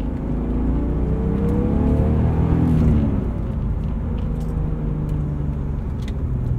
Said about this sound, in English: This S52 was a great, great motor. Sounds nice, good amount of torque.